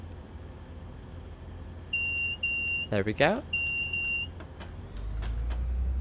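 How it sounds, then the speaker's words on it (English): Train door closing warning beeps in Train Sim Classic: two short high tones, then a third, with a brief spoken remark landing between them, followed by a low rumble of the train starting off. "Alright, the doors are about to close."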